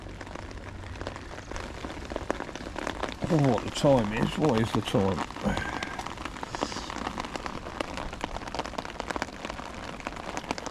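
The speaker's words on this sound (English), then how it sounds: "the rain's back in again" Rain patters steadily on surfaces at a fishing spot, a constant close hiss of drops that runs throughout while someone briefly talks over it.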